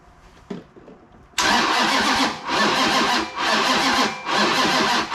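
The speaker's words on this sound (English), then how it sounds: "Well, that's cranking." Starter cranking a Chrysler 440 V8 with a six-pack carburetor setup: after a brief quiet lead-in, a loud, close grinding churn kicks in and surges in repeated waves without the engine catching.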